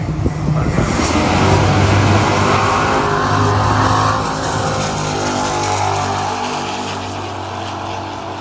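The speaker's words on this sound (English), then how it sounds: "The engine's working" A powerful drag racing car engine roars loudly and steadily at Santa Pod Raceway, a deep droning rumble that slowly fades slightly, with no talking.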